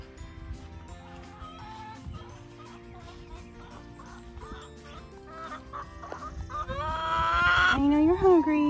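Backyard chickens kept in town cluck and squawk near the coop after being fed, with a steady, busy layer of calls that grows louder and more excited toward the end.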